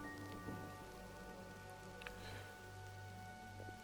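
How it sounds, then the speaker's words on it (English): Steady rainstorm pattering in the video game Mind over Magic, a dense, even hiss of falling rain with a low rumbling bed and faint droplet ticks, no talking. "not even rain, it's a storm."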